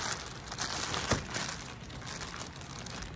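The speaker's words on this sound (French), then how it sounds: "On va déballer." Protective packaging crinkling and rustling as a VP1000 dental handpiece is unwrapped, close and fairly quiet, with one sharper crackle partway through.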